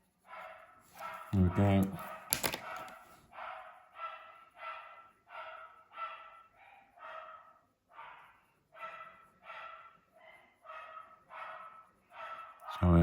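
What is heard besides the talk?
dogs barking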